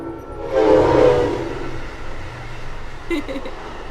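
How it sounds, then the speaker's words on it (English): A train passes close by with a swell of rumble and a short horn blast near the end, loud and continuous throughout. "hey, the train's going by"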